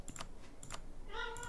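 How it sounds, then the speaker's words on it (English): A pet cat meows once, clear and close, near the end, after a few soft clicks of computer keyboard typing in a quiet room. "Might be able to hear my cat."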